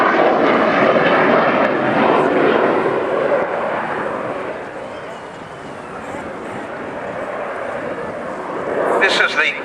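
A Hawker Sea Hawk jet with a Rolls-Royce Nene 103 engine roars past at the RNAS Culdrose airshow, a loud sustained whooshing jet rush that slowly fades, with a commentator talking over it.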